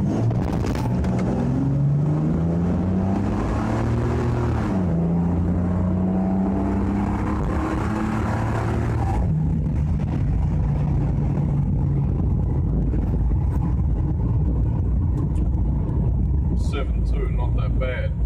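A 265 Hemi six in a VH Valiant ute runs on a dyno, its engine note rising steadily for about nine seconds in a loud revving sweep, then dropping to a rough idle rumble while people talk over it.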